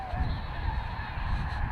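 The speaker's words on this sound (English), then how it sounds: "we stumbled on an entire field of sitting birds" A flock of birds sits in an open field, giving a steady outdoor wash of honking and cawing calls that blur together over constant wind-like rumble.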